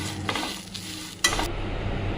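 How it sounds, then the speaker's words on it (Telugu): Chennangi leaves fry in oil with a little tamarind while a spoon stirs the pan, producing a steady sizzle with a few brisk scraping strokes against the metal, close and alone without talk. "ఆ తర్వాత కొద్దిగా చింతపండు వేయాలి అంతే కలపాలి"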